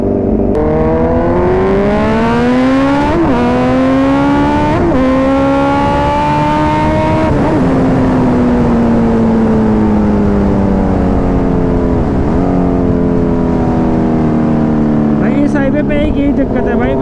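A Kawasaki Z900 superbike revs loud and close during a long wheelie on a public road, its engine pitch climbing and dropping with several sharp gear-change breaks.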